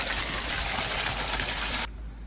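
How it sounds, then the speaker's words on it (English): Water gushes out of a basement pipe in a steady, loud hissing rush that cuts off abruptly near the end, leaving a quieter background. "hopefully water's gonna shoot out that though"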